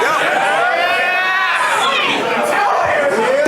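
A rap battle crowd erupts in loud overlapping shouting and chatter, a dense close wall of voices reacting for several seconds without pause.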